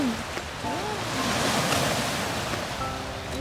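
Waves wash steadily against a lakeshore at Gairloch Gardens in Oakville, Ontario, a broad continuous surf rush with wind noise, while people talk briefly over it.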